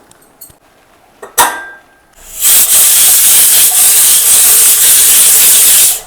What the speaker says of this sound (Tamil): இப்போ 5 விசில் வந்துருச்சுங்க,